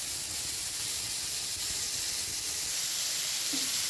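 Ridge gourd is sautéed in a pan, giving a soft, steady hiss of steam and sizzle that continues evenly throughout.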